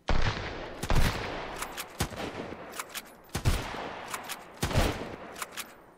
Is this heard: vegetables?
no